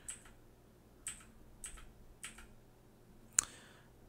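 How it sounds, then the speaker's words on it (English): Typing on a Redragon Vata K580 mechanical keyboard with clicky blue switches, a few sharp separate keystroke clicks spaced out over several seconds, the last one loudest, fairly close and alone with no talk. "by the clickiness, you can tell that this is a blue switch keyboard"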